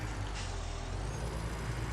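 A truck in Farming Simulator 17 gives a brief, steady hiss like an air brake over a low engine rumble, fairly quiet and with no voices.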